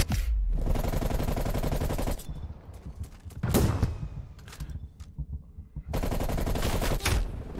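Dense automatic gunfire in Call of Duty Black Ops Cold War, in loud rapid bursts at the start and again near the end, with sparser single shots and impacts between them.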